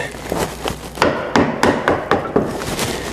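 Repeated sharp mallet strikes on a chisel cut into teak on a potter's bench, about nine knocks in a steady, slightly uneven rhythm, close and fairly loud.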